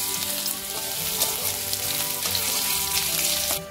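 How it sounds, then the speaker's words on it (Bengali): Chopped ginger and garlic sizzle and crackle in a spoonful of hot oil as they are stirred, a steady bright frying hiss that runs loud and unbroken before cutting off at the very end. "সামান্য আদা কুচি আর রসুন কুচি তেলের মধ্যে দিয়ে নেড়ে দিচ্ছি।"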